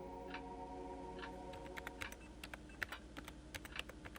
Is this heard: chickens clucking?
no